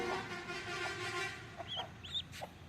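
A hen that mothers a brood of ducklings gives soft clucks and a couple of short rising calls, faint and close, in a quiet rural setting.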